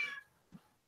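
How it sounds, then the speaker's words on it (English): A few cats meow nearby, one drawn-out meow first, then a brief, lower second call after a short pause in an otherwise quiet room. "Pardon the cats."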